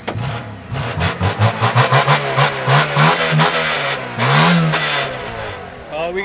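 A car engine is revved hard in a series of quick throttle blips, rising and falling, then a longer rising rev and drop. It is loud and close, and voices talk over it. The car has its check engine light on.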